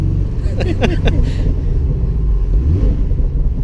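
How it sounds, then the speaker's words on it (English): A 2016 Porsche Boxster 718 S engine rumbles and revs while a short series of sharp crackling exhaust pops bursts out early on; a voice briefly exclaims. "That popping from the exhaust is amazing"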